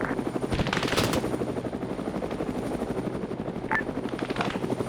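A Huey helicopter in a video game, its rotor chop beating steadily and loud throughout, with rapid bursts of machine-gun fire rattling over it and a brief radio beep near the end.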